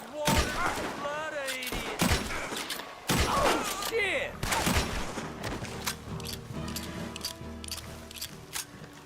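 Gunfire in Red Dead Redemption 2, Lemoyne setting: a dense cluster of loud sharp shots and thuds over the first few seconds, easing into scattered quieter bangs, with voices talking throughout.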